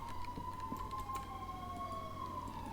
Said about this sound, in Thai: เสียงหวออะไรนี่